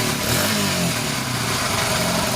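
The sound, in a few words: Honda XL100S motorcycle engine running with genuine exhaust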